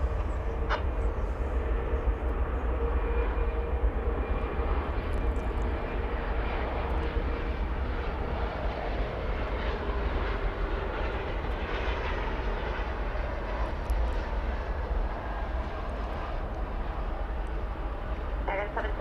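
An American Airlines Boeing 767 jet takes off from runway 18 left at DFW Airport, its engines producing a loud, steady roar that fills the whole stretch without a break.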